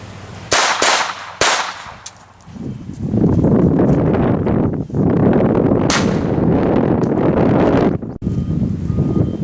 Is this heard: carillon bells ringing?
no